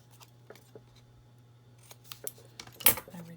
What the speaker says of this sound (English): I'm going to cut this one